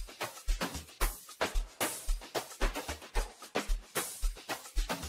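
An amapiano beat built in FL Studio Mobile, with crisp shaker hits layered over a deep, regular kick and percussion pattern, repeating in a fast, even groove.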